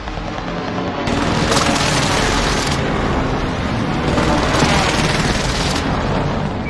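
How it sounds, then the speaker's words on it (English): A precision airstrike in Call of Duty: Warzone pounds the area with loud, dense, continuous explosions and booming impacts in repeated waves, heavy and close, with no speech over it. "Allied precision airstrike incoming!"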